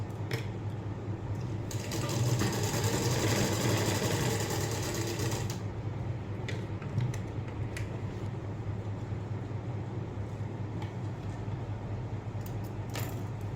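Sewing machine stitching close along a dart on a blouse, a steady mechanical whir with a louder burst of continuous stitching early on, then quieter intermittent running and small clicks.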